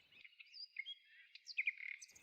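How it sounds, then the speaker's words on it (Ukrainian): A small songbird sings a bright, rapid series of high chirps and trills, clear and close against silence, used as a sound effect in a narrated Ukrainian folk tale. "а на кущі пташка співала царівні свою пісню"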